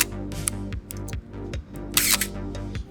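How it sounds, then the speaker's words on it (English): A film camera's shutter fires with several brief mechanical clicks and snaps, close and fairly loud, between quieter handling noises, with a film-advance whir. "That's the shutter being open."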